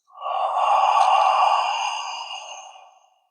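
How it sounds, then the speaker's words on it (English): A single long, breathy "ha" exhale, soft and close, fading out gradually over a few seconds. "when we exhale, we're going to make a ha sound"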